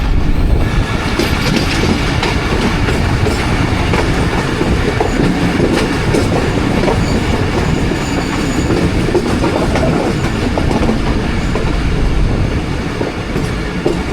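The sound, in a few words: Khyber Mail passenger train running on rails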